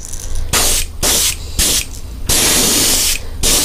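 An aerosol can sprays primer onto an aquarium fish model in bursts: several hissing blasts of varying length, separated by short gaps, loud and close with an exhaust fan setting nearby.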